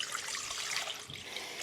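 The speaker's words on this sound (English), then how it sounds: "we're gonna start with 1 quart or 4 cups of water" About a quart of water is poured steadily into a pot to make a chicken brine, giving a soft continuous splashing stream, close but fairly quiet, with no voices.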